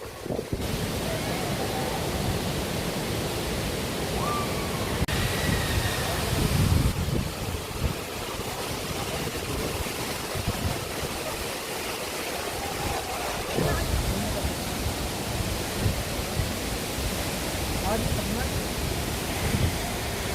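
The Agaya Gangai waterfall in Tamil Nadu roars steadily and loudly, a dense broadband rush of heavy falling water that never lets up, with wind buffeting the microphone.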